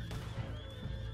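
A horse neighs in Red Dead Online, a clear, fairly close whinny with a trace of hoofbeats beneath it, heard alone without talk.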